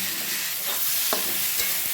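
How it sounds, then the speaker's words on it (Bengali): Gobindobhog rice fries in hot oil with whole garam masala, a steady close sizzle broken by a few soft scrapes of stirring, with no voices. "এটাকে ভালো করে ভেজে নেব।"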